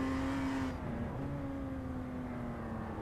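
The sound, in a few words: BMW M2 race car engine in iRacing video game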